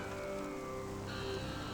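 Steady rain falls in a continuous broadband wash, with faint tonal lines running underneath and no voices.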